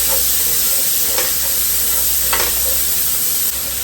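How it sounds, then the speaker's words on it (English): Diced red and green bell peppers sizzle as they hit a hot pan and get tossed, a steady bright frying hiss with a few soft stirring scrapes and knocks along the way. "let's get our diced veggies into the pan. Give it a good toss."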